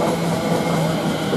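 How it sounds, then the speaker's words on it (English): A Greater Anglia passenger train at Chelmsford station gives a steady, dense rumble with a low hum, close and continuous and not broken by talk. "Now we've got a Greater Anglia train."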